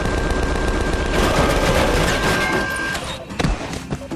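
Rapid gunfire from a firefight in the Tales from the Borderlands video game: a dense, loud burst of overlapping shots for about three seconds, then a brief lull and a couple of sharper single cracks.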